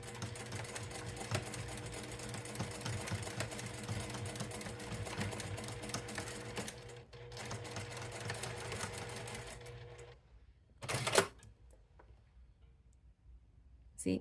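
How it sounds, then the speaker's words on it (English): A sewing machine runs steadily in a rapid, even whir while back stitching a fabric zipper pouch, then stops, followed by a brief louder mechanical clatter and quiet. "I will be back stitching here, here, and here to secure the ends"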